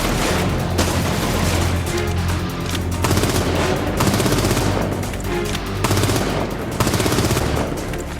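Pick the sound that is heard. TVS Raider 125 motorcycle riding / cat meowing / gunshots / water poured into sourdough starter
gunshots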